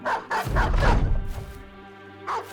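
A dog in the Battle Brothers game barks in short yelping bursts as it chases, close and loud, with growling and a rough rumble between the barks.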